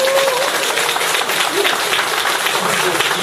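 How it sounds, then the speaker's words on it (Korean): An audience at a company presentation bursts into dense, loud, continuous applause, a steady wash of many hands clapping throughout. "박수 한번."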